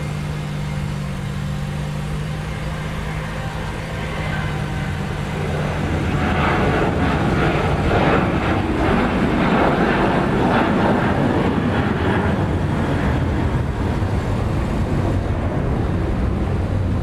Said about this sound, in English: Now it looks like we have one more landing.